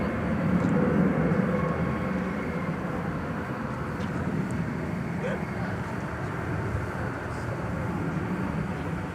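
A Boeing 787-9 Dreamliner airliner at DFW Airport taxis across a runway toward the hangar area, producing a steady, moderately distant jet engine rumble and whine that persists throughout.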